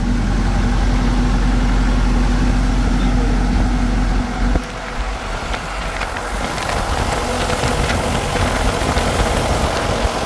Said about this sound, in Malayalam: നമ്മളുള്ളത് ഈ ജീപ്പിലാണ് കേട്ടോ. ഇത് വില്ലീസ് പഴയ ഓൾഡ് മോഡലാണ്.